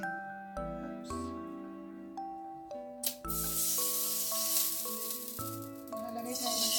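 Pork hits hot oil in a pan and sizzles loudly partway through, a bright hissing sauté that carries on under gentle background music.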